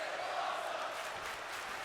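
A video-game arena crowd in WWE 2K20 chants at an NXT TakeOver event, a steady dense roar of many voices filling the whole short stretch without pause.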